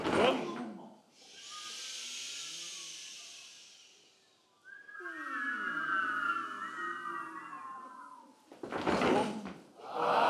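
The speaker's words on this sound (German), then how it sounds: "Beendet wurde das Turnier übrigens mit einer weiteren Tradition, der Indoor-Version eines Feuerwerkes." Indoor fireworks set off to close a tournament give a long steady hiss, then sweeping whistle-like squeals and crackling bursts with a sharp burst near the end, fairly loud in a large hall.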